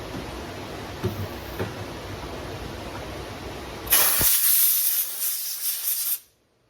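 Compressed air blasts dust off a McCulloch chainsaw during chain adjustment, a loud steady hiss lasting about two seconds that cuts off abruptly, following a stretch of low background rumble.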